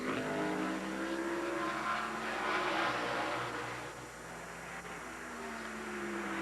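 A NASCAR stock car's engine on a qualifying lap at the 2002 Sharpie 500 drones steadily with shifting harmonic tones, loud and continuous, easing slightly toward the end as the car slows and loses grip.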